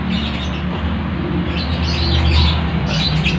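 A pancawarna pitta chick, about ten days old, chirping in short high repeated calls over a dense, noisy low background rumble.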